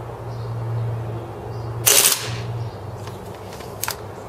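A Marushin M2 carbine airsoft gun firing 8mm BBs lets off one loud, sharp burst near the middle, set against a steady low hum, with a few faint clicks trailing afterward.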